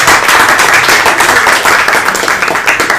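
Audience applause fills a council meeting room, a dense, steady wash of many hands clapping close and loud for the full stretch without pause, no voices above it.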